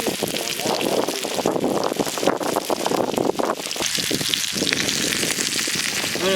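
Ooli fish fry in a pan over a village fire, a dense crackling sizzle with rain-like spatter, loud and close throughout.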